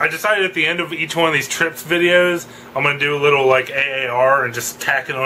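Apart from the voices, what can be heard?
None of the usual background noises is heard.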